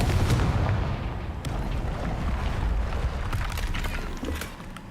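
Confringo fire spell cast in the Hogwarts Legacy video game: a fiery blast with a sharp crack, followed by a rumbling, booming burst and a lingering crackle, loud and close.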